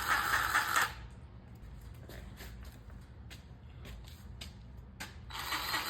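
A hand grease gun pumps grease into a Bobcat skid steer fitting on a farm, giving a series of short creaking, clicking strokes in an irregular rhythm, close and quiet, with no talk.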